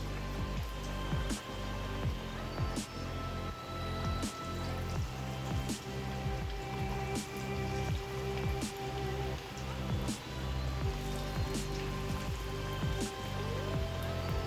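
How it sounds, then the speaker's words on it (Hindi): Potato chips frying in hot oil over a medium flame, a steady dense crackle and sizzle with scattered sharp pops throughout, close and continuous. "चिप्स हमारी फ्राई हो रही है।"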